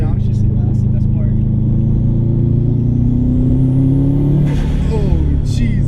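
Loud 2005 Subaru STI turbo engine building boost with a strong whirring rise, then a sharp hissing blow-off burst near the end, close to the car.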